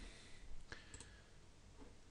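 A single faint computer mouse click sounds over a quiet room background, with a possible second soft tick shortly after.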